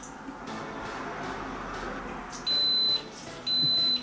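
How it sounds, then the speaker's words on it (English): Two loud, high electronic beeps from a Ninja blender, each about half a second long, sound one after another over a low continuous motor hum, warning before it pulses. "It always beeps before it pulses to warn you."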